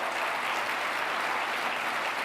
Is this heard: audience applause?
yes